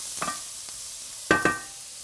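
Salt and pepper being stirred into beets cooking in a pan, a few short scraping stirs, two close together near the end, over a faint low sizzle.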